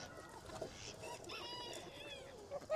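Hens clucking and murmuring in a backyard coop, a steady close chorus of chatter with brief louder squawks near the end.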